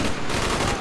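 Gunfire in the Call of Duty Black Ops game on the Jailbreak Jungle map, a dense continuous burst of rapid shots filling the short stretch at steady, fairly loud level.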